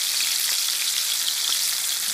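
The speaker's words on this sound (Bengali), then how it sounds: "মাছটাকে হালকা ভেজে নেবো আমরা" Hilsa fish, previously frozen, frying lightly in a pan, a dense, even hiss of hot oil sizzling close by and without pause.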